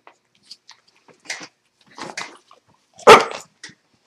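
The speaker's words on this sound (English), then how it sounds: "He's a good doggy. Look at him." Two dogs at play indoors, with scattered short growly barks and snuffling, a sharp loud bark near the end, and gaps of quiet between the bursts.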